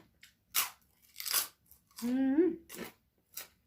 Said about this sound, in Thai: คบหมูเพิ่นคือกรอบดีครับ